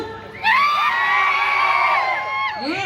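Men in the crowd at a bank's 25th silver jubilee celebration break into loud cheering and yelling, a sustained roar of whoops rising sharply and holding for about two seconds before tapering off.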